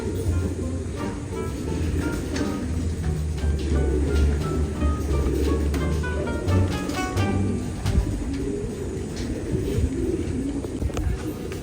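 Racing pigeons coo in a family loft, layered soft repeated coos close by with other birds calling and faint background noise.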